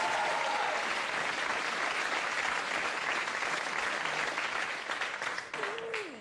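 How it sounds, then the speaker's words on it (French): Loud, continuous applause from a comedy show audience, a dense, full-room clapping that continues for several seconds and tapers near the end as a voice briefly cuts in. "On applaudit Cyril Big Jim"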